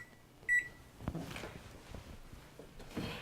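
A kitchen timer, set for 50 minutes while a peach cobbler bakes, gives a short burst of close, bright electronic beeps, followed by light kitchen clatter and handling noise.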